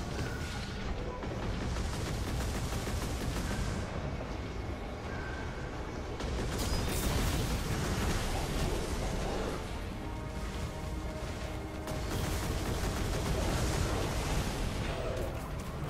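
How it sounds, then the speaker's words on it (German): Dense gunfire and explosions from the video game Destiny, played on Xbox One, rattle on continuously and loudly throughout, forming a thick, unbroken barrage of shots and booms. "Wird gerade angeschossen?"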